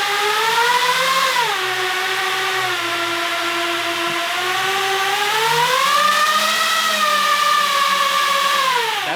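Paramotor driven by fifty drone motors running at about two-thirds throttle, a loud, smooth, close electric whine with stacked tones that dip and rise as the throttle shifts, steady throughout with no speech.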